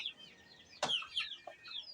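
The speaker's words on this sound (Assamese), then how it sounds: "এইখিনি হৈছে আমাৰ লোকেল মুৰ্গী।" Local chickens cluck on a poultry farm, several soft overlapping clucks and calls at moderate distance with one sharper squawk, no talking.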